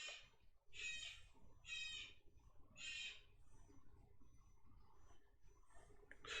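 Repeated loud squawking bird calls in quick succession early on, then quieter scattered calls later, over a constant low hum in the background.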